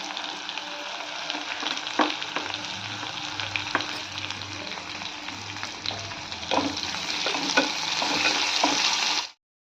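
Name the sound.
onion frying with bitter gourd pieces, being stirred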